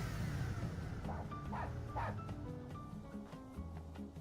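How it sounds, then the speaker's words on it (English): A short series of small yipping dog barks, three quick yelps followed by fainter ones, sounds out of a car being cleaned in Powerwash Simulator 2, heard over a steady game background hum. "Did the car just bark?"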